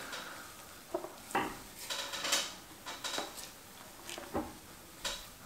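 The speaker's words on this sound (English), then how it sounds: "I'm just going to dump a half of the grain bill in it and give it a good stir." Grain poured into a Speidel Braumeister and stirred during a home brew of an Autumn Amber Ale, giving a run of scraping, rustling stirs and soft knocks at close range, loud and irregular with no talk.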